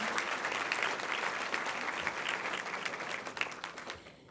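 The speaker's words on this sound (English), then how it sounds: "So please join me in applauding and appreciating these sponsors and all who have made this daydream come true." Audience applause at a sponsor breakfast event, a steady broad wash of many hands clapping at moderate level that thins and fades out toward the end, no voices over it.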